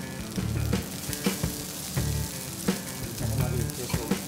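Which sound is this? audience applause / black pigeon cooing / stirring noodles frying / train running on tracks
stirring noodles frying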